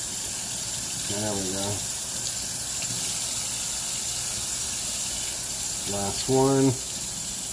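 Tap water runs steadily in a kitchen sink while a leek is rinsed and fanned open under it, a constant close hiss with brief speech over it at two points.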